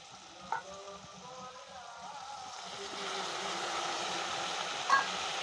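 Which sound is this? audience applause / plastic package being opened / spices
spices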